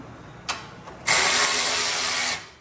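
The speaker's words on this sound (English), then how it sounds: "let's see if I can use my handy dandy ratchet to get those started" A hand ratchet working on bolts for a front frame stiffener on a 2021 RZR Trail Ultimate: two brief clicks, then a loud, steady rapid ratcheting buzz running for over a second, close up with no talk.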